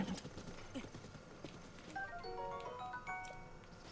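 Horse riding in the video game Zelda Breath of the Wild: steady hoofbeats under a melodic game score that rises partway through, with faint background voice.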